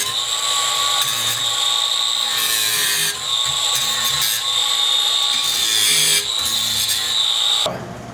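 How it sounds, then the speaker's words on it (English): An angle grinder cuts off protruding screw ends from the glove flanges of a sandblasting cabinet, a loud, close, high-pitched metal whine in several bursts with short dips between cuts, ending abruptly. "the glove flanges, they come through quite a bit. I have to cut them off with a grinder."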